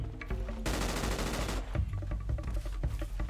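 Automatic gunfire in the GTA 5 video game: a dense, sustained burst of rapid shots dominates the middle, framed by scattered single reports and game sounds before and after.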